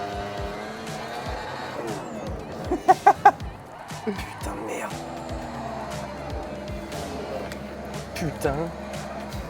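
Formula 1 racing simulator lapping Spa-Francorchamps at full throttle, engine roar and tire squeal with a few sharp bursts, under excited French exclamations.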